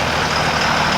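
A 2002 Ram pickup's Cummins 24-valve diesel engine running with a loud, steady broadband roar, close up and continuous with no talk.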